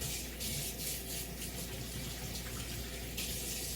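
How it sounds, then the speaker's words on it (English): Tap water runs steadily into a sink as hands are washed beneath it, a close, continuous rushing flow with faint splashing variations and no talking. "Just going to wash my hands real quick."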